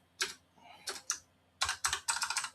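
Keys tapped on a computer keyboard while Python code is entered, in short bursts of crisp close clicks separated by brief pauses, ending in a quicker run of keystrokes; no voices.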